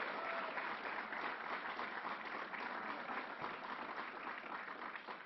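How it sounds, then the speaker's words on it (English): An audience at a gun violence policy announcement by the New York governor breaks into sustained applause, dense and steady clapping from a large crowd that begins to fade near the end. "Let's give Hazel a round of applause"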